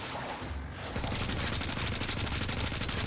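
Rapid automatic gunfire from Valkyr's spectre in the Warframe video game, shooting herself inside a bubble at Jupiter Junction, a dense continuous stream of closely spaced shots that stays loud and steady for most of the clip.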